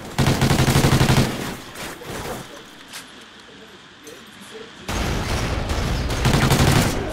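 Rapid automatic gunfire in a Call of Duty: Ghosts free-for-all match, with loud sustained bursts at the start and end and a quieter stretch of scattered shots between.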